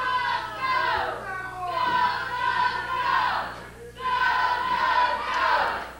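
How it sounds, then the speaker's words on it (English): Crowd at a professional wrestling TV event in the Ohio Valley: a large audience roars and chants in loud, swelling waves, with a brief dip before the cheering surges again. A broadcast hum sits underneath. "All right, you hear the crowd ready here for a great day of professional wrestling."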